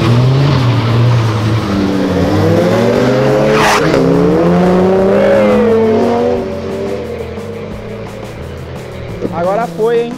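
Cars in a street race roar loudly and continuously at close range, with engine pitch rising and falling as they accelerate. There is a brief tire squeal, and voices talk over the engines.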